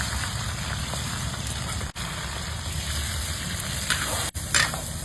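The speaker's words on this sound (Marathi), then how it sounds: "कांदा घालून घेऊया" Onion, curry leaves and chilli frying in hot oil in a pan: a dense, even sizzle that hisses continuously like rain, with a faint scrape or two near the end and no talking.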